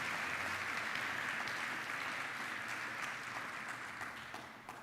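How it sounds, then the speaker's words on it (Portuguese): A church congregation applauds during a family worship service, a dense, steady wash of many clapping hands with no talk, tapering off slightly toward the end. "Pode aplaudir bem forte o amor do Senhor"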